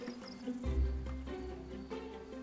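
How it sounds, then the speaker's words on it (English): Crickets chirp in the open air in a steady, high, pulsing chorus, moderately close and unbroken, with a soft low rumble passing beneath midway and no voices. "But amidst all the fuss, the crickets forgot something, that they're not at home now."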